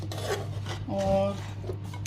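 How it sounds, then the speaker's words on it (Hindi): Dishes and cutlery clink and scrape close by while palak gosht is plated, a few quick metallic taps and a short rubbing stroke over a low hum. "और जी ये प्लेटिंग टाइम है।"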